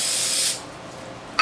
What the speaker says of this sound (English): we'll use brake cleaner to get the garbage off of there